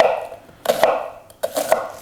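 Knife roughly chopping an onion on a cutting board, two quick bursts of sharp thuddy chops separated by a short pause, close and clear with no talk.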